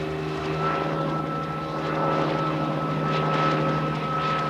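A robust helicopter flies nearby, its engine and rotor making a steady, loud drone with a constant hum throughout.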